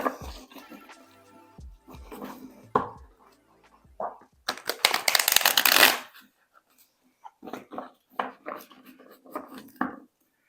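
Tarot cards are shuffled by hand in a run of crisp riffling bursts, with a loud dense flurry in the middle and scattered softer card slaps and flicks around it, close up with no talk.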